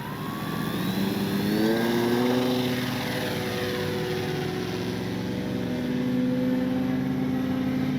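CNHL Bison XT RC bush plane on its maiden flight, electric propeller whine rising and falling in pitch as it passes, steady and fairly loud throughout with no voices.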